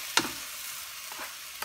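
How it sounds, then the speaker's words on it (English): Tomato sautés in a pan with a low, steady sizzle, broken by a sharp utensil knock at the start, a softer scrape midway and another click at the end. No one speaks. "We're gonna saute the tomato so it will"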